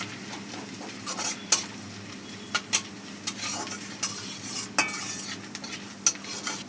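Chopped ginger and garam masala fry in a pan, giving a soft steady sizzle broken by repeated sharp scrapes and clinks of a spoon stirring against the metal, close by and with no talk.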